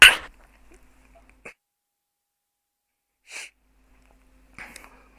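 A sharp, loud sneeze bursts out at the start, followed by a few faint sniffs and breathy noises in an otherwise quiet room.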